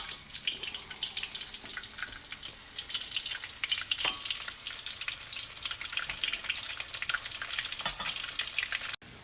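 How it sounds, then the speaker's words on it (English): Steady crackling sizzle of chicken pieces frying in hot oil for sesame chicken, dense and continuous, with a few faint clinks, ending abruptly. "Now you have to fry your chicken pieces."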